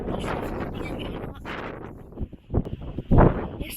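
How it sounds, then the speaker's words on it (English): Strong wind buffeting the microphone on an overgrown clifftop at Cape Zanpa, a continuous roaring rumble with gusty low thumps growing louder toward the end. "It's very windy too, so I'm not sure if you can hear me or"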